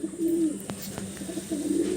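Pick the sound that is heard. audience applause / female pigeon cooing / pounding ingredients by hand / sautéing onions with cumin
female pigeon cooing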